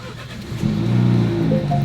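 A car engine fires up close and loud, settling into a steady idle.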